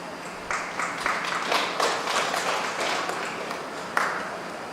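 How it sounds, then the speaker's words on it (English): Light audience applause at an evening winery gathering, a scattered patter of clapping from a modest crowd, steady and fairly close for a few seconds with a sharp clap near the end. "Thanks for the pity applause."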